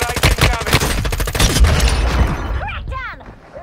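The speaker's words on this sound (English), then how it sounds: "Hostile mortar strike incoming." Mortar strike explosions in Call of Duty: Warzone Mobile erupt as a rapid, loud barrage of blasts and booms up close, then fade into a rumbling tail with chirping game effects.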